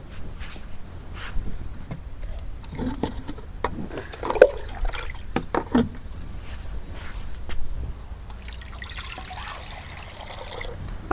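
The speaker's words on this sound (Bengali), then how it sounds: "বেগুন কুটার আগে আমি পানি দিয়ে নেই।" Water trickles and splashes over eggplants in a village kitchen before they are cut, a soft uneven pouring with light handling noises, fairly close and alone without talk.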